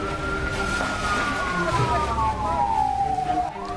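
Fire engine siren at a house fire in a row of six rental rooms in Bengkulu, a steady wailing tone sliding slowly downward over the whole stretch, heard under general street noise at moderate distance.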